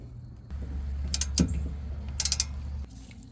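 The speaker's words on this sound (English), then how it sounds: "let's get our bracket back in place with the 2 H8 or hex" Hex ratchet tightening the rear wheel bearing bracket bolts on a Dodge Dart, giving a few quick, crisp clicking bursts over a steady low mechanical hum, close and without talk.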